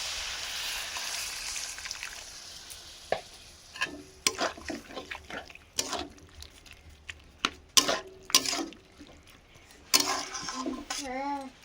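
A spoon stirs and scrapes toli shak (jute leaves) in a pan after a little water is added, giving soft irregular clinks and scrapes over a faint simmering hiss while a voice talks quietly.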